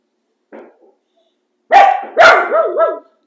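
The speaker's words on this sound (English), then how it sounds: "The fireworks is my dog's getting upset because the fireworks are going off outside." A pet dog, upset by fireworks going off outside, gives a short soft yip and then two loud, close barks that trail into a wavering whine, heard alone without any talking.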